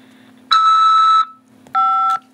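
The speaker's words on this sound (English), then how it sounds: "After the beep, press 5 to accept this call." A phone call system for a corrections facility sounds two electronic beeps, each about half a second long, clear and close against a faint background hum.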